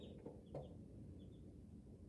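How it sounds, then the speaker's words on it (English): Chickens cluck faintly in the distance, a few brief calls over a low, steady background rumble. "Those chickens are going crazy."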